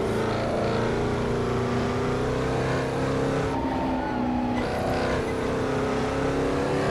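A 1964 Porsche 904/8 flat-eight racing engine in Assetto Corsa, lapping the Targa Florio road course, holds a steady, loud, buzzing drone with a brief dip and recovery in the middle, and no talking.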